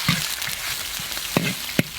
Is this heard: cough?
no